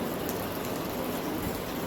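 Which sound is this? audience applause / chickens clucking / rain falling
rain falling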